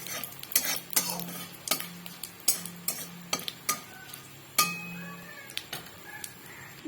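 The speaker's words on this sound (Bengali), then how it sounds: "ডালের ফোড়নটা দিয়ে দিলাম।" A spoon clinks repeatedly against a pot as a dal tempering sizzles in a home kitchen. Sharp metallic taps come in an uneven rhythm over a soft, steady frying hiss, with no talking.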